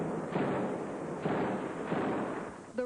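Gunfire from a North Hollywood bank robbery shootout in a parking lot, several muffled, distant-sounding bursts spaced roughly a second apart over a steady rumbling background.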